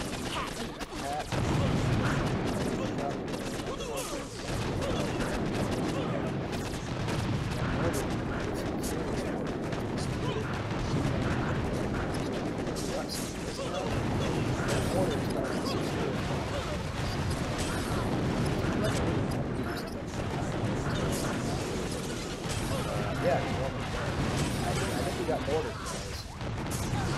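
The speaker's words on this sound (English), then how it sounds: "We got mortared." Mortar shells explode during a video game battle, with loud, dense and continuous blasts and gunfire rumbling throughout as players talk over the noise.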